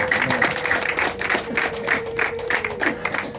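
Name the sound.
audience applause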